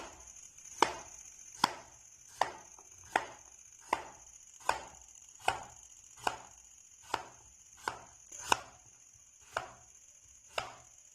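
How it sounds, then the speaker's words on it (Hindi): A knife chops potatoes finely on a board for a Spanish omelette, about a dozen crisp, evenly spaced strikes close up with no talking. "इसको बारीक बारीक काट लेंगे"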